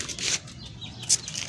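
A rooster on a backyard pet setup flaps its wings in two short, fairly close bursts, a longer rustling flurry near the start and a quick one near the end, with no talking.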